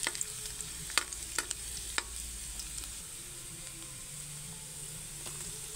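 Garlic sizzling in oil in a pan while cooking chicken adobo, a steady close frying hiss with a few sharp stirring clicks and scrapes, no voices.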